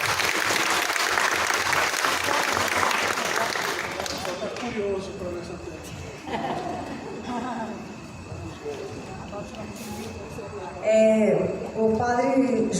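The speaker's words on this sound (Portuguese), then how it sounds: "Uma salva de palmas." An audience at a parish Marian month event bursts into loud applause for about four seconds, then the clapping fades into crowd murmur and speech, with a brief louder swell near the end.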